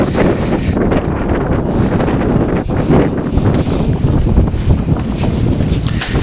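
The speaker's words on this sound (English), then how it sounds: "sorry about the wind." Heavy wind buffeting a microphone, a continuous low roaring rumble with gusty surges throughout, loud and close.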